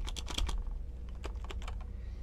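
Computer keyboard keys pressed in quick irregular bursts of close, crisp clicks over a low steady hum, with a brief lull in the middle.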